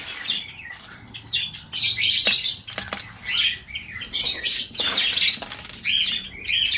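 Pet pigeons being called and fed flap their wings in repeated bursts close by, mixed with soft chirps and coos, fluttering rising and falling across the scene.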